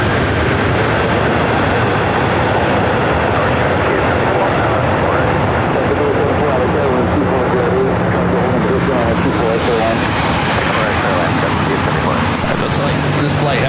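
A jet airliner touches down at Los Angeles International Airport, nearly landing on its nose wheel, with a steady loud broadband engine roar running throughout and other voices audible over it.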